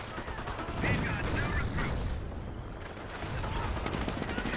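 Gunfire in a WWII real-time strategy game featuring Wehrmacht grenadiers, snipers and an MG 42, with scattered shots and rattling bursts beneath a dense battle din and faint voices.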